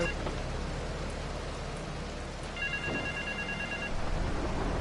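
Telephone ringing in Grand Theft Auto III on Liberty Campus, a short repeated electronic trill under rain and game ambience, moderately faint, with a radio voice in the background.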